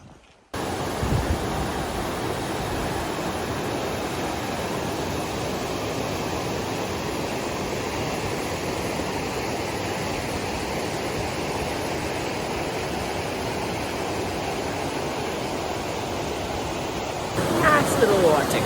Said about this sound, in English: Nice little water crossing.